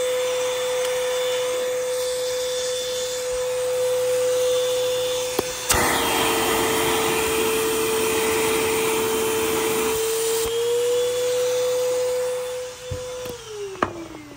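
A secondhand vacuum cleaner at a Goodwill store runs with a steady whining drone that shifts briefly in pitch as its suction is tried, then winds down near the end; no speech.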